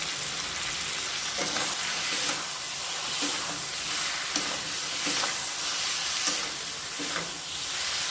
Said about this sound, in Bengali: মশলা খুব ভালো মতো কষানো হয়ে গেছে